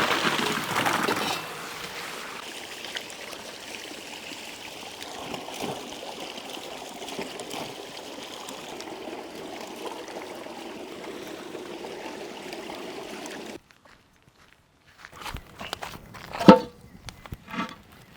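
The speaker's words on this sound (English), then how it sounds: "Let's wash fresh tomato." Fresh tomatoes are washed under running water, a steady stream and trickle splashing for about thirteen seconds before stopping, followed by a few brief knocks and handling sounds near the end.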